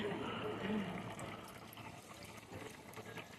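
A backyard waterfall splashes and rushes steadily in the background, a continuous watery wash with people's voices faintly mixed in at a birthday gathering outdoors.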